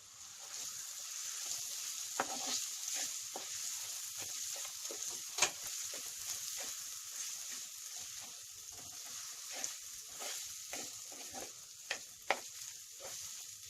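Chili powder masala for a Kerala sardine curry being stirred and fried in a pan, a soft continuous sizzle with scraping stirs and a few sharp clinks of the spoon against the pan, fairly quiet and close.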